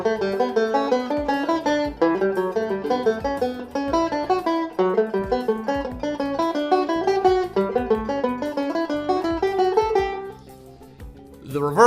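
A banjo plays a nine-note scale exercise built entirely on thirds, as a close, steady run of single-string notes repeated in several phrases, then a brief pause at the end.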